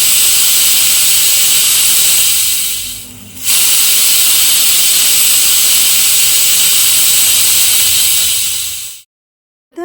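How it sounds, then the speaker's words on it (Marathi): Loud, continuous high-pitched steam hiss from a pressure cooker whistling while cooking dal khichdi, close by, briefly dipping once before resuming, then cutting off abruptly near the end. "कुकरला दोन शिट्या घेतलेल्या आहेत"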